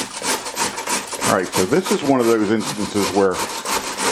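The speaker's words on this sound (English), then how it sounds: "watch me scrape this cabbage back and forth" Cabbage is scraped back and forth while making homemade coleslaw, producing a loud, rhythmic rasping close by that continues steadily under someone talking.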